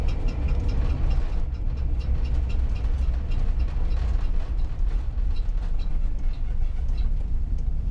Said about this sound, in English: Maybe that's actually a brake noise.